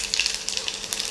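Small shallots fry in hot coconut oil for a vegetable curry, giving a steady close hiss with faint crackles and no talk.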